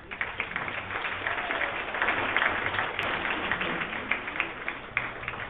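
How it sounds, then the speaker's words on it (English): Wedding guests break into a steady round of applause, a dense wash of clapping that holds at an even level throughout. "So give you guys a round of applause."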